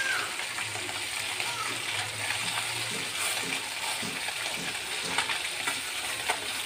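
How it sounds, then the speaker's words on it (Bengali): Small puti fish (pool barb) fry in a pan with a constant close sizzle and spatter, while a low voice talks faintly over the cooking. "পুঁটি মাছটা প্রায় ভাজা হয়ে গেছে, একটু ভাজা হয়ে গেছে, আর উল্টে দিচ্ছি"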